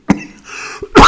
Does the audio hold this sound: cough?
yes